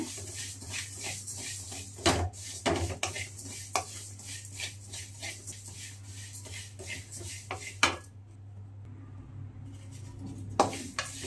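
Cumin seeds roasting in a pan at home, stirred with a metal spoon that scrapes and clinks against the pan in scattered knocks over a faint background hiss.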